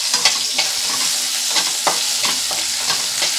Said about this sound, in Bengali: তো দেখুন, কাঁচা লঙ্কা আর রসুনটাকে আমি ভালো করে ভেজে নেব।